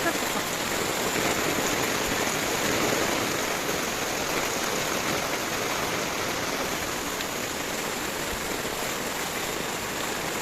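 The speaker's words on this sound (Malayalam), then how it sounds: "ഭയങ്കര മഴയാണ് രാവിലെ മുതൽ" A heavy downpour falls in a continuous, even roar of rain, loud and unbroken.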